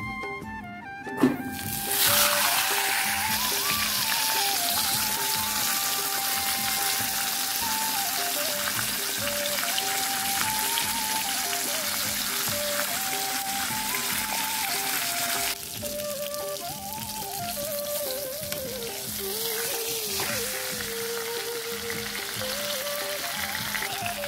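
A hilsa fish head slides into hot oil in a kadai and fries with a loud, continuous crackling sizzle that holds steady for a long stretch, with a brief clatter near the start and faint background tones.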